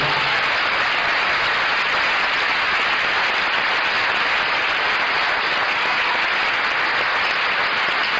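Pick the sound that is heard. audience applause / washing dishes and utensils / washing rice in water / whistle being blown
audience applause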